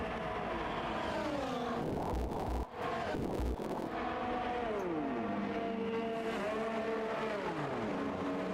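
Formula 1 race cars in the F1 24 video game at the Qatar circuit, engines whining and shifting pitch as they slow into the pit lane, a steady loud drone with wind noise and no talking.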